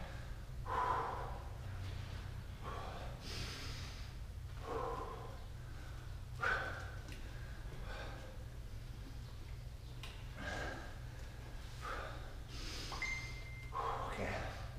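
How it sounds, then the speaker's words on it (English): Deep breaths during a workout, slow audible inhales and exhales repeating every few seconds, fairly close, over a low steady hum. "big breath in"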